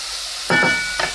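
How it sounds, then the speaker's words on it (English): Meat browning in a pot for Norwegian lapskaus gives a brief burst of sizzling, with a short stir-like scrape and a second sizzle flare close by. "we're gonna fry until nice and brown on all sides"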